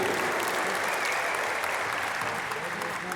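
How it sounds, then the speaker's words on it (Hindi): Loud, continuous applause from a large audience at an Amway Star Award event fills the hall throughout, dense and unbroken, with a crowd murmur underneath. "जोरदार ताली सुनील भाई के लिए, जोरदार ताली न्यू के लिए।"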